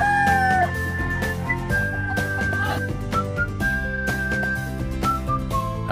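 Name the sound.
roosters crowing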